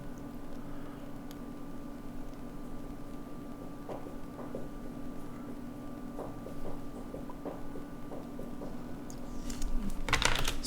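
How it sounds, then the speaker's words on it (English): Soft keystrokes on a computer keyboard, irregular short bursts of tapping that grow busier and louder near the end, over a quiet steady room hum. "He was typing something."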